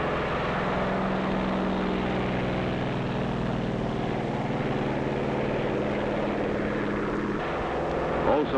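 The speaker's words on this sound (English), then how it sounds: "Also taking off from the carrier are control planes" A loud, sustained droning roar of aircraft engines with a low propeller hum as planes take off from an aircraft carrier during Operation Crossroads, steady throughout and dense with rumbling background noise.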